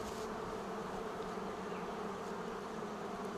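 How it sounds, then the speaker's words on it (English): Honey bees drone steadily inside a hive, a dense, unbroken buzz heard up close and alone, with no other sounds over it. "So after a while you get used to the sound of the bees and know when it's time to add a bit more smoke to the hive to calm them down"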